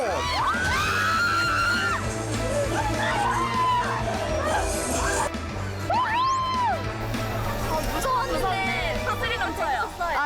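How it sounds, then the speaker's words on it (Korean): People scream and whoop while sliding down a high sand dune on sleds at a riverside festival, with overlapping shrieks and yells rising and falling over a constant murmur of crowd noise and background music. "높은 모래 언덕에서 썰매를 타고 슝슝 비명 소리만 남은 이곳"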